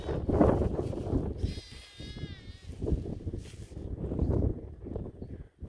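Sheep bleat from a nearby flock at lambing time, with a short wavering bleat cutting over breezy outdoor noise and low rustling, fairly close but moderately faint.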